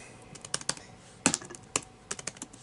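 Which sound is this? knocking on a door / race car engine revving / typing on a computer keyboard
typing on a computer keyboard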